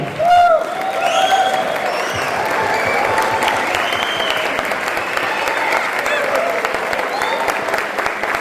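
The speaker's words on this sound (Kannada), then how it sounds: "ಇಷ್ಟು ಹೊತ್ತು ನಿರೂಪಣೆ ಮಾಡಿದ ಈ ಮಕ್ಕಳಿಗೊಮ್ಮೆ ಎಲ್ಲರೂ ಎದ್ದು ನಿಂತು ಚಪ್ಪಾಳೆ ಹೊಡಿಬೇಕು ಅಂತ." An audience at a Kannada Rajyotsava event rises and applauds the child anchors, a loud, sustained wash of clapping from a full crowd that holds steady throughout, with a few faint voices mixed in.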